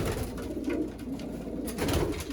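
Young racing pigeons coo in a loft, soft throaty murmuring calls from several birds close by, overlapping continuously with occasional brighter rustles.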